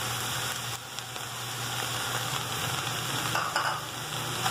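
Beef and onion with a pinch of pepper frying in a pan, a steady close sizzle and crackle with soft scraping as the mix is stirred, no voices.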